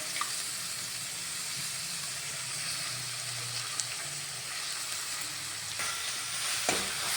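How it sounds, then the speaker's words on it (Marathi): Curry leaves, chopped onion and garlic fry in hot oil in a pan for bread pakoras, a steady close sizzle running throughout with a few faint stirring scrapes and no voices. "कांदा हा थोडासा लालसर होईपर्यंत कलसून घ्यायचा आहे"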